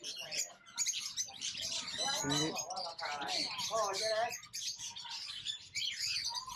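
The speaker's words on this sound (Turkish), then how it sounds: "Şimdi burada kuşlar var." Birds chirp and tweet busily in the background at an exotic animal market in Bangkok, Thailand, while someone talks over them, their high calls steady throughout.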